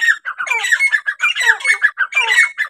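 Loud, raspy partridge calls repeating in quick bursts, harsh squawking notes close by with short gaps between phrases.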